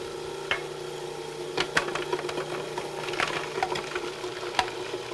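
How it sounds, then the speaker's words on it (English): A Cuisinart DLC-7 or DLC-8 series food processor running with its metal blade while shallots are dropped in and minced, a steady motor hum broken by scattered sharp chopping ticks and knocks, close, with no talking. "While the machine is running, drop the shallots into the small feed tube."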